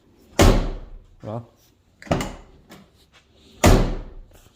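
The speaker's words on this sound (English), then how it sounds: "You have to slam this door when you shut it" A Mazda FD RX-7 door slammed shut three times, each a loud, close, heavy thunk, with a softer knock between the first two and brief talk between slams.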